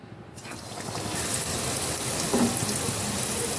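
Homemade egg snacks slide one at a time into hot oil in a pan over a low flame, raising a steady, close sizzle and crackle that swells after the first drop and holds level, with no talk.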